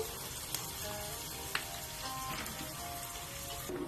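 Onions fry in a pan for soya tibs, a faint, steady sizzle with a couple of small clicks, heard close but quietly.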